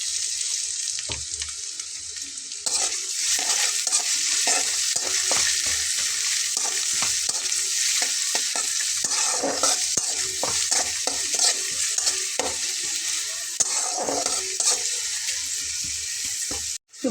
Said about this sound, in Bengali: তো একটু ভেজে নিয়ে আমি এর ভেতরে পেঁয়াজটা দিয়ে দেব।